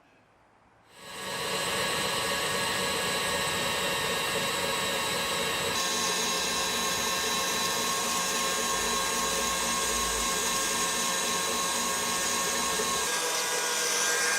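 Electric hand mixer whipping egg yolks and sugar for tiramisu cream, a steady loud motor whine that starts abruptly after a quiet second and runs unbroken, shifting slightly in pitch partway through.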